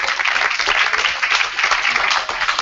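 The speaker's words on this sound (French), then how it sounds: "Donc je crois qu'on peut les applaudir." Steady audience applause at a hackathon event introduction, dense and even clapping from a crowd that carries on throughout without a break.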